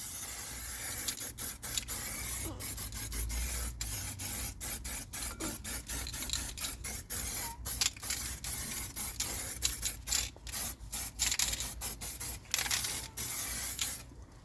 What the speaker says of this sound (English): Rust-Oleum, rust converter, rust primer. Direct to rust.